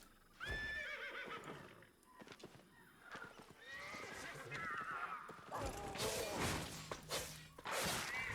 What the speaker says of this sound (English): Didn't expect to be running around with a Gallant horse today